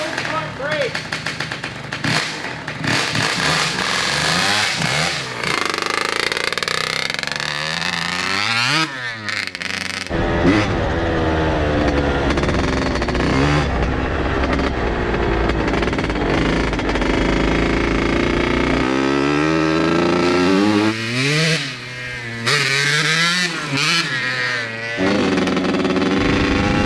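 An 1980s barn-find Kawasaki KX80 two-stroke dirt bike revving hard while ridden, its loud buzzing engine rising and falling through throttle blips, with riders talking and shouting over it.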